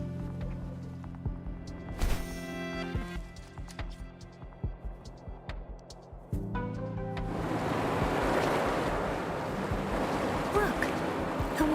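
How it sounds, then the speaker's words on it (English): Water drains and recedes in the video game Wuthering Waves: after several seconds of soft tonal chimes and plucked notes, a broad, steady rushing wash of water swells in and continues to the end. "Look, the water is going down."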